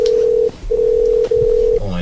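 Tones from a telephone sound in quick succession during a call to a pizza place, three sustained beeps separated by brief gaps, loud and close, ending in a shifting tone.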